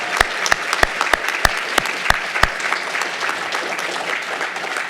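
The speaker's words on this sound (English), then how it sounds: "Let's give them another round of applause." A ceremony audience applauds award winners, a dense, loud wash of many hands, with a few sharp nearby claps standing out in the first half before settling into steady clapping.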